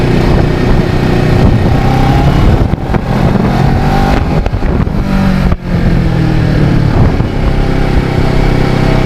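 A restored Kawasaki Ninja 650R motorcycle rides along a road with a loud, continuous engine drone and heavy wind rush, throttle rising and easing as it goes.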